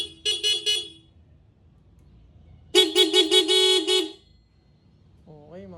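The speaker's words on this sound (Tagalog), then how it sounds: "Ito yung stock horn." Stock horn on a Raider 150 Fi motorcycle after a full clean rewiring, giving a short honk, a pause, then a longer, louder blast, close and clear, with a brief voice at the end.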